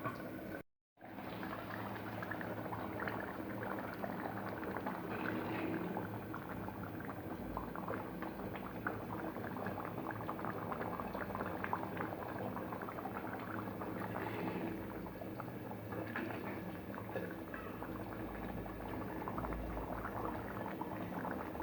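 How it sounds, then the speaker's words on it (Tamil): Sankara (red snapper) fish curry bubbles steadily in a covered pot, a continuous close simmering hiss and burble with no talk, broken only by a brief gap near the start. "இப்போது மூடி வச்சு குக் பண்ணலாம் இந்த மீன் வேகிற வரைக்கும்"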